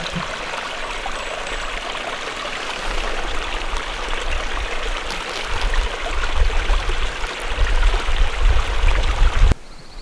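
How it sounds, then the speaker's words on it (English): Ice-cold creek water rushes past in the San Gorgonio Wilderness near Dry Lake, a steady close wash that swells louder toward the end before cutting off abruptly, with no voices. "Ice cold creek water. A couple minutes of that flowing by."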